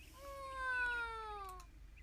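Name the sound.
cat meowing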